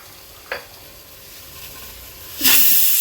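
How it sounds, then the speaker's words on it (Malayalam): Ghee poured into a hot pressure cooker on a gas flame, a faint tap and then a loud, sudden sizzle and hiss that keeps going to the end, with no talk. "നമുക്കിതിലേക്ക് നെയ്യ് ഒഴിക്കാം"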